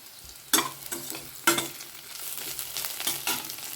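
Onions frying in a pan for a ridge gourd curry, a quiet sizzle broken by a few sharp clattering stirs of a spatula, evenly spaced and close by.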